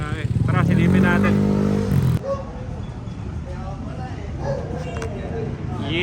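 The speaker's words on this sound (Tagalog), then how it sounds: "Ayan na yung motor" A motorcycle engine in a garage roars loudly for a couple of seconds, then drops to a quieter running rumble while people talk nearby.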